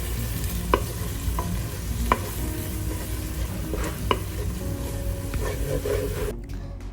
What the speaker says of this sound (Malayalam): എന്നിട്ട് ഇതിൻ്റെ പച്ചമണം മാറുന്നത് വരെ നമുക്ക് നന്നായിട്ടൊന്ന് ഇളക്കി കൊടുക്കാം.